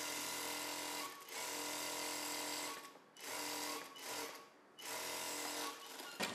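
A sewing machine runs in steady bursts stitching the folded edge of a blouse sleeve, with brief pauses between runs, close and loud.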